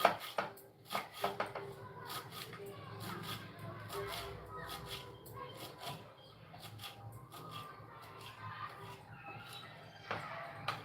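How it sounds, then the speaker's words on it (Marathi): A knife finely chopping coriander on a board, with quick rhythmic taps at close range that run steadily for several seconds, some light shuffling in between, and no clear talk. "बारीक कोथिंबीर कट करून घेणार आहे"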